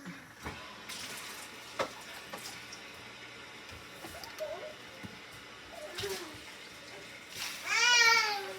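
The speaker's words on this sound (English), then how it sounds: "Now I'm gonna add some more water to it." Water pours into a cooking pot on a stovetop, with intermittent splashing and trickling and a brief louder burst toward the end, set against a quiet kitchen background.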